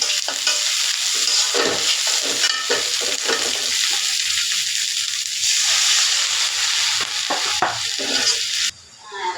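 Ginger-garlic paste frying with browned onions in a pan, a loud close sizzle with repeated scraping stirs and bursts of hissing steam, ending in a sudden drop.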